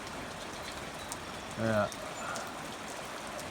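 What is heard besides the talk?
slow, steady rain on pasture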